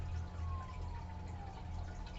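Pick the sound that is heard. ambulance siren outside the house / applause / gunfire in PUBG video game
ambulance siren outside the house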